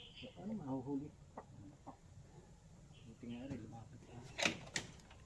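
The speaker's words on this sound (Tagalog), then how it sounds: "yung dalawang nandito sa kulungan, yun ang ilalabas dito kasi malapit nang umitlog yung inahin" Hens cluck softly and intermittently close by, with a few sharper squawks and faint rustling in a quiet enclosure.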